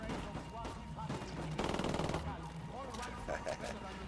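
Rapid automatic gunfire in the video game Ghost Recon Wildlands, a dense, fast burst of rounds in the middle sitting among game sound effects and a busy background.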